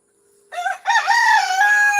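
A single rooster crows loudly and close by, a drawn-out call rising after a short first burst, against a quiet background.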